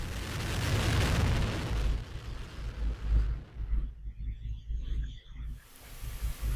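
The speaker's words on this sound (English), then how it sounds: "Main engines start and liftoff of the Delta II rocket with SMAC" A Delta II rocket carrying the SMAP spacecraft ignites its main engines and lifts off at Vandenberg, a loud continuous roar with deep rumbling and crackle that stays heavy throughout.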